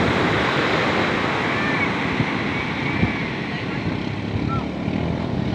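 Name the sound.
fishing boat engines heading out over waves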